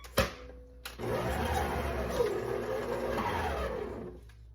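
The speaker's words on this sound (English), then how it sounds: "we're gonna mix that in our mixer" An electric mixer creams softened butter with brown and granulated sugar in a bowl, starting after a couple of knocks and giving a steady close motor whir for about three seconds before stopping.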